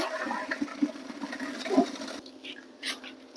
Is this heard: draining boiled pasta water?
yes